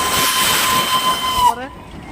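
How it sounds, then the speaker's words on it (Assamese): Coal-fired Darjeeling steam train approaching: a loud, steady hissing roar with a sustained whistle-like tone that cuts off abruptly partway through, leaving a quieter rumble. "এইখন ট্ৰেইন আহিছে ওপৰত আগত কয়লা ভাঙি দেখাব ইয়াত পুৰা কয়লা আছে"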